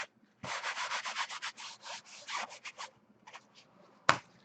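Paint is scrubbed off a mixed media canvas in a close, steady series of rough rubbing strokes that trail off, ending with a sharp knock.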